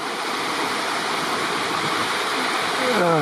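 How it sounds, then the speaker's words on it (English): A small waterfall beside an old, overgrown forest service road near Kaslo, BC, roars with a steady, close, full rush of falling water that never lets up. "we're beside this little waterfall"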